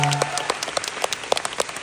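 Sparse applause from a fan-concert audience, a few scattered claps spread through the moment rather than a full ovation, at moderate distance.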